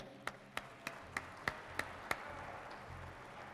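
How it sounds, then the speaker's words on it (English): Audience applause for a band at the 10th Annual Computer Bowl comes through faintly as about seven sparse, evenly spaced claps, distant and thin, fading out. "let's have a nice round of applause, actually, for our Computer Bowl ensemble you've been listening to"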